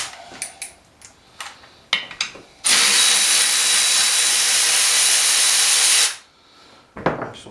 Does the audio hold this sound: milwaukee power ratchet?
yes